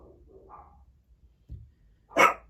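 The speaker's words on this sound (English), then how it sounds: "I'm sorry about the dogs." A single sharp dog bark near the end follows a few faint, muffled sounds in an otherwise quiet indoor room.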